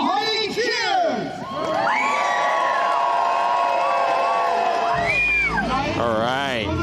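Crowd cheering and whooping at a jousting tournament at the Renaissance Faire at Mount Hope Estate in Pennsylvania, loud and sustained, with children's shouts and voices rising over the din throughout.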